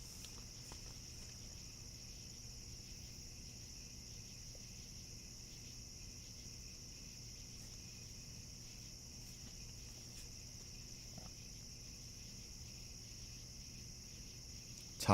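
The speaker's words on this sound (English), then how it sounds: "And especially with all those crickets out there," Crickets chirp at night during a Perseid meteor shower watch, a steady high-pitched continuous drone with a faint hiss underneath and no talking.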